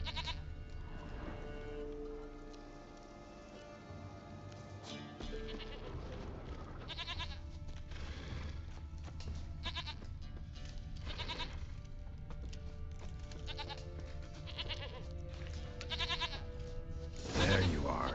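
A goat in The Witcher 3 bleats several times amid game music and ambience, the calls short and moderately near, with a voice speaking briefly over the scene.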